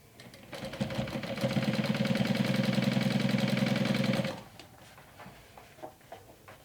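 A sewing machine top stitching a backpack runs in a steady, fast, close-up mechanical whir for about four seconds, then stops, leaving faint handling noises.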